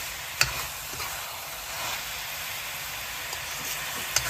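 Chicken leg pieces fry in a pan for an Assamese chicken dish, giving a steady soft sizzle with a few faint clicks and taps, no voices.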